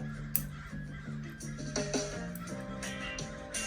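Several crows caw in loose bursts at a moderate distance outdoors near a balcony, harsh calls repeating over a steady low hum of background noise.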